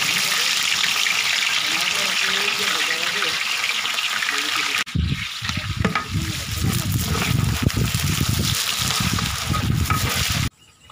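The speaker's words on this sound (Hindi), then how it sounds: "अब इस तेल में प्याज डालेंगे, हमारा घी गर्म हो चुका है।" Onions drop into hot ghee in a large 15 kg pot and fry, giving a loud continuous sizzle that turns into a rougher, bubbling crackle with stirring and scraping, then cuts off abruptly.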